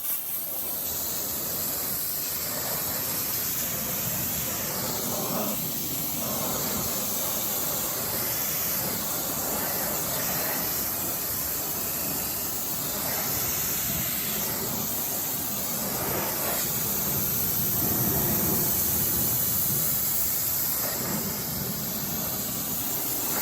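Pressurised water spray hisses steadily as it rinses the alloy wheels of a BMW M4 Competition, a constant close rushing wash with slight surges and no talking.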